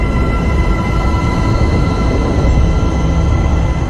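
Pitched-up sound waves from the early universe form a dense, steady roar with faint tonal bands, holding a constant loud level without breaks for the whole stretch.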